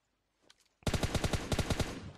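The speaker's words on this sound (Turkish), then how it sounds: "2-3 silah sesi duydum ben." PUBG Mobile gunfire: a few faint distant shots, then a loud rapid burst of automatic fire, about a dozen rounds in quick succession, heard alone.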